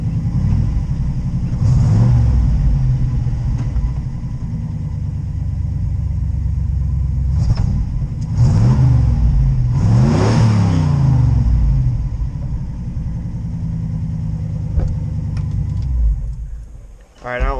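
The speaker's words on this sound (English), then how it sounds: "Idling at a little over 1100 RPM." An old Ford truck engine idles with a rough, throbbing rumble and rises through several revs. The revving swells and falls in repeated bursts before the engine settles back, loud and close.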